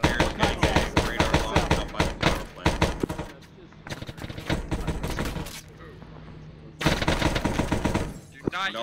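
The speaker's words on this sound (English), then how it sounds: "On the other side of the dumpster, put some rounds through it." Rapid gunfire tears through a dumpster in Arma 3, with loud rattling bursts, a quieter pause in the middle, then another heavy volley near the end.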